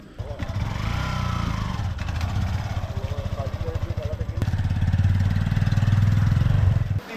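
A motorcycle engine runs steadily nearby at a hill eco resort in Bardi Pahar, Bankura, with a low, throbbing rumble that swells toward the end, and people talk over it.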